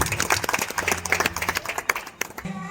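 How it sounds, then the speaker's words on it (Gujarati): Audience applause at a community meetup: a dense burst of many hands clapping, fairly close and steady for a couple of seconds, then tapering off. "તાળીઓના ગણગણાટથી વધાવી લીધું"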